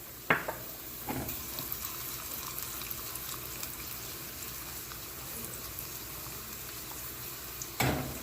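Raisins and cashews frying in a pan for ash gourd halwa make a steady, soft sizzle throughout, with a couple of sharp bursts near the start and again at the end as they are stirred or added.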